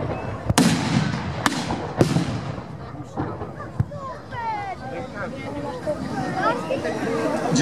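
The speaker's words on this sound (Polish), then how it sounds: "O, tutaj salwa ze strony polskiej." Cannons and muskets fire at a reenactment of the Battle of Racławice: several sharp, loud reports crack out in irregular succession over a murmuring outdoor crowd, with voices talking throughout.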